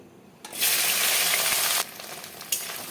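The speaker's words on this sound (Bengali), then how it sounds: "তেলটা গরম হয়ে গেছে দেবো ভেন্ডি" Okra dropped into hot mustard oil in a kadai bursts into a loud, close sizzle that holds steady for over a second, then settles to a quieter frying crackle with another brief flare near the end.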